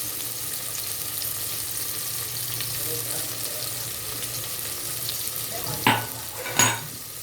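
Tomatoes with ginger-garlic paste frying in a pan for mushroom pulao, a steady soft sizzle throughout with two brief louder scraping stirs near the end.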